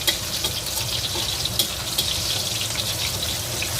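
Pork meatballs fry in hot oil with oil drizzled over them, producing a steady close crackling sizzle with faint bubbling and occasional sharper pops throughout.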